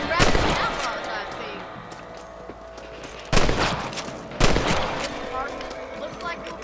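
A volley of rifle gunfire rings out in the Red Dead Redemption video game, with several loud cracking shots in quick bursts, including two sharp shots later on, plus echoing reports and game sounds in the background.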